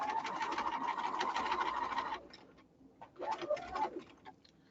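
A sewing machine runs steadily, stitching right up to the pins in a sewn piece, then stops; after a short pause it gives a brief second burst, close and moderately loud with no talking.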